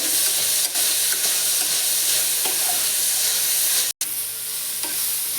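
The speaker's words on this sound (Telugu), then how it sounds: "ఇలా బాగా కాయలు అన్నీ వేసి వేయించుకుంటే టేస్ట్ బాగుంటుంది" Cluster beans frying in a pan with coriander seeds for a tangy Andhra curry, giving a loud, steady, close sizzle with light stirring and one brief dropout near the end.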